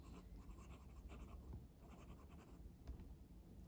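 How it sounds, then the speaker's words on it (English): Pelikan M805 fountain pen with a medium nib writing on paper, a faint, close scratchy nib sound in short continuous strokes, quiet and alone. "So let's do a little bit of a writing sample here."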